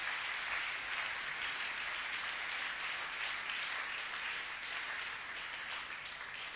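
A church congregation applauding in acclamation at a worship service, steady dense clapping holding evenly throughout at a moderate distance, with no voices standing out.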